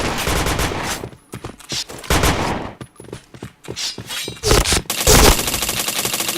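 Rapid bursts of automatic gunfire in a shooter video game, loud, dense volleys broken by short gaps and a few single shots.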